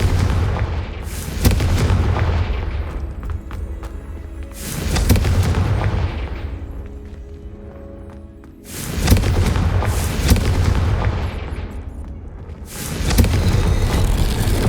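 Confringo blasting spell explosions in Hogwarts Legacy, three loud booming blasts each rolling into a long decaying rumble, spaced several seconds apart with no talk over them.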